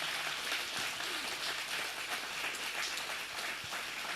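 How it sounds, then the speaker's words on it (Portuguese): Church congregation clapping together during a Sunday morning service, a dense, steady patter of applause with no voices over it. "Eu queria que você aplaudisse Jesus por esse momento."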